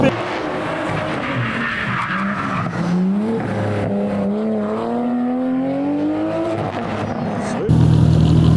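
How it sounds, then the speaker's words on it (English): A Toyota Supra tarmac rally car spins its wheels nearby, tyres squealing and the engine climbing in pitch over several seconds before a sudden change at the end. "Oh, look at that wheel spin."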